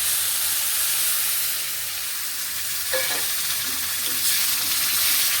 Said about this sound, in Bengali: আমি 2 কাপ সুজি নিয়েছি, তাই 4 কাপ জল মেপে রেখেছি, আমি দিয়ে দিলাম